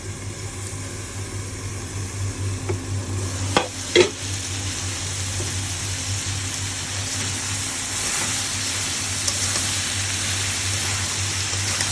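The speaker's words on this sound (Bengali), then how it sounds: "চিংড়ি মাছ, আলু, ধনে পাতা, শুধু পেঁয়াজ, হলুদ, লবণ দিয়ে বেগুনটা ভাজি করে খেয়ে দেখবেন" Eggplant frying in a pan with shrimp, potato, onion, coriander leaves, turmeric and salt, giving a steady close sizzle with a couple of brief stirring clatters partway through.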